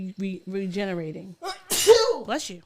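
A sharp human sneeze bursts out in the middle of a casual conversation, with someone talking just before and after it at close range.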